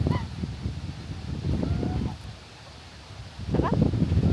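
A white goose at an animal refuge gives a few brief honks amid outdoor rustling and wind, moderately close, with quiet sounds between calls and a louder burst near the end.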